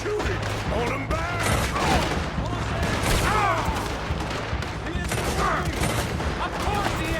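Chaotic western shootout in the Red Dead Redemption video game: dense, continuous volleys of rapid gunfire and booms crowd the scene, with shouting voices mixed into the din.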